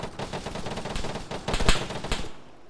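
Rapid rifle gunfire in ARMA 3 crackles in dense bursts, with a sharp loud shot near the middle, continuous and close, with no talking.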